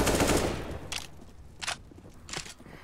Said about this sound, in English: 2 quick kills, both headshots